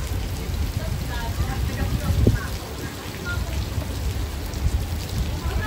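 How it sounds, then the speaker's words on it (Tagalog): Steady heavy rain roars across the whole clip, a dense hiss with a low rumble, continuous and fairly loud. "Ang lakas ng ulan."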